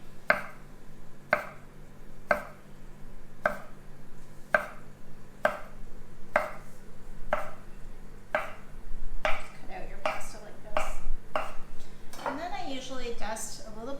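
Fresh rolled egg pasta sliced with a sharp knife pressed down hard onto a board, giving a steady run of crisp, evenly spaced chops, about one per second, close up, with soft clinks and handling noise toward the end.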